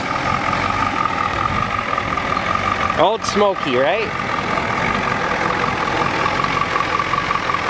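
A 1993 Ford F-250 XLT with a 7.3L IDI diesel sits idling after a year of storage, a steady low engine drone running throughout while someone talks briefly over it.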